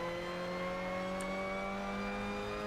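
Mazda MX-5 Cup race car in Assetto Corsa accelerating on the Nurburgring Sprint circuit, a steady engine note climbing smoothly in pitch under full throttle, loud and continuous with no voices.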